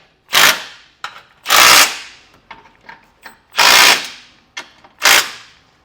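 Power tool driving a 9/16 socket to snug down base plate bolts against the bumper beam of a 2018 Jeep Cherokee: four loud, close bursts of whirring impact rattle, each about half a second, separated by small clanks and handling noises, no talking.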